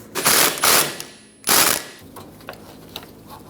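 Ratchet clicking while tightening a radiator bolt on a 2012-2020 Chevrolet Sonic 1.8L, with three loud bursts of rapid ratcheting close by, followed by faint scattered ticks and handling noise.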